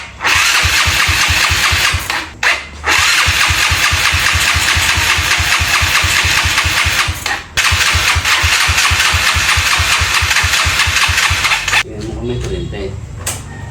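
An engine on a Filipino mechanic's project is cranked and fires up for a test run, running loud and close with a fast, even chug, cutting out briefly twice before restarting and then dying away, with voices in the background.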